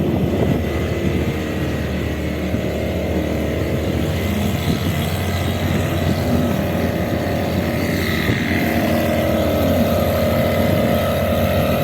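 Engine of a privately run passenger boat on a ferry crossing in Jaffna drones steadily and loudly throughout, with a constant low rumble and water wash and no voices.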